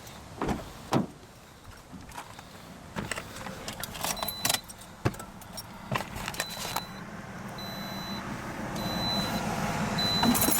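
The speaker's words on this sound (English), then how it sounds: "we're gonna start a car and run it through the gears" Keys jangle and clatter before a 2009 Toyota RAV4 engine starts, its steady broadband noise swelling and holding near the end, with faint repeating electronic tones.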